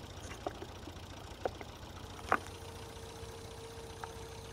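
A small tractor idles in Farming Simulator 22, a faint, steady low hum that runs throughout, with a few soft clicks and taps scattered over it.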